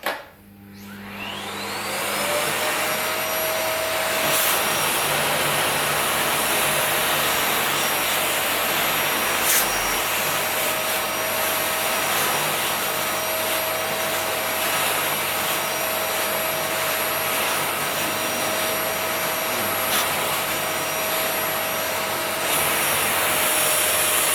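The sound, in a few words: vacuum cleaner vacuuming car AC section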